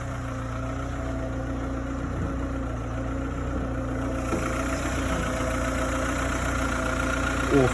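A 2004 Seat Ibiza S 1.4 automatic idles steadily in the engine bay, giving a continuous, even hum at moderate level from start to end with no talk.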